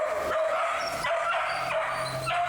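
A small dog yips and barks in quick bursts at a steady moderate distance over a constant outdoor background hum.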